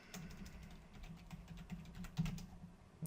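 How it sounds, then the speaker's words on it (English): Soft, quick keystrokes tap out a password on a computer keyboard during Ubuntu Server setup, a faint, steady patter over low background hum. "So sudo su, and now we just type the password."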